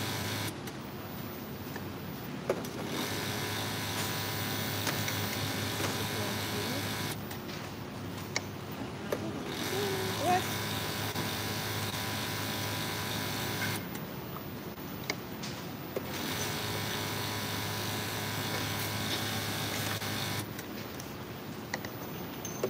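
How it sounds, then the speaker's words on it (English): An electric mixer runs with a steady mechanical whir in three sustained stretches, switching off briefly between each, with no talking over it. "And then you're gonna have to use the other mixer to mix it into that."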